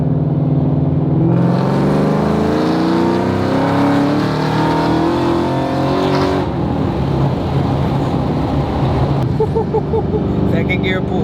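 A Terminator Cobra pulls hard through second gear, its engine note climbing steadily in loud, sustained acceleration with no sputtering, then easing off near the end.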